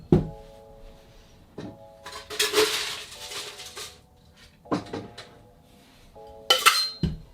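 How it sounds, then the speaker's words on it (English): Ice cubes dropped into a metal cocktail shaker while mixing a white rum summer cocktail, heard as a few separate bursts of clattering and clinking, close and fairly loud, with quiet gaps between them. "get your cocktail shaker and put in 45 ice cubes."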